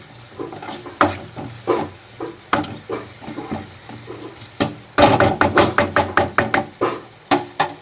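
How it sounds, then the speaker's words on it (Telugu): Ginger paste mixed with tomato, onion and green chilli in a pan for mutton curry, with sizzling frying under repeated close, loud clanks of a spoon against the pan that speed up into quick bursts, and no talking. "ఇలా అల్లం పేస్ట్ టమాటాకి, ఉల్లిపాయకి, పచ్చిమిరకాయకి ఇలా బాగా పట్టేటట్టు ఇలా మనం కలగలుపుకోవాలి"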